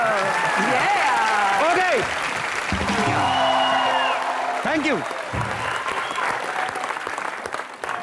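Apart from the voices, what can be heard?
audience applause for Kapil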